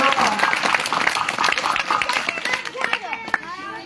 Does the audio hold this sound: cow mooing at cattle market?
no